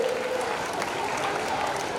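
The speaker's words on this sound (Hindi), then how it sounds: "जोरदार तालियां आपके लिए।" Dense, continuous applause from a crowd at a general-knowledge quiz held for Agrasen Jayanti celebrations fills the room as an unbroken, loud wash of clapping, with a voice faintly present beneath it.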